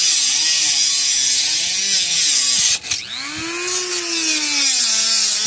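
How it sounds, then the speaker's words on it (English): A Dremel 3100 rotary tool whines loudly and steadily up close, its pitch wavering as it cuts into wood, with a brief dip and a sharp scraping burst midway. "we're using my Dremel 3100"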